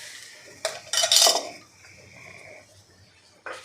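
Metal spoon clinking and scraping against a pot while stirring a yogurt kadhi mixture, a few short close knocks in quick succession, then a quieter pause and one more clink.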